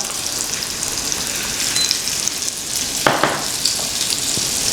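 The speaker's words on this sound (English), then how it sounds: "heat this one up with a little bit of butter, a lot of butter" Butter sizzles and spits as it heats in a pan on the stove, a steady close hiss with a few sharper crackles partway through.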